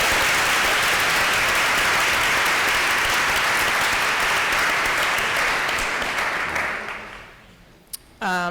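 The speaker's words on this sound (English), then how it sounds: "I would just like to give everyone a round of applause again for that" Audience applause for a team at a public health grand rounds session on harm reduction in Philadelphia, steady and dense for about seven seconds before fading out, with a brief stray sound near the end.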